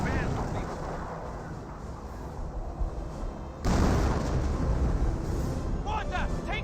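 Heavy shelling and gunfire from Company of Heroes battle close around a crewed mortar, a dense loud rumble that swells sharply partway through, with faint voice-like calls near the end.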